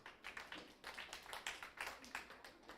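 An audience in a quiz event claps in short rhythmic bursts, several distinct rounds of hand claps following one another across the clip, fairly close and clear.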